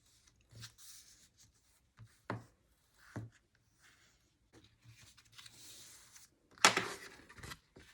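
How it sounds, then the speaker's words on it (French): Fold marks being creased into paper: a series of soft, brief rubbing and scraping strokes with quiet gaps between them, plus one sharper, louder swipe near the end. "Alors je vais venir faire mes marques de pli."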